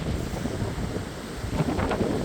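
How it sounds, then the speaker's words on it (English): Strong wind on a windy morning buffets the microphone with a continuous low rumble and roar, gusting slightly louder toward the end, with no voices. "As you can tell, it's a very windy morning this morning."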